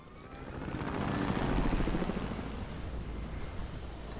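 Rotor drone of a helicopter in a video game, a broad steady rumble that swells over the first second and a half and then holds, with no talk.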